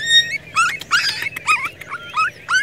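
A dog at a wild dog den in Dong Nai whimpers and yips in a series of high, wavering whines with short pauses between them, close and clear over a quiet background hum.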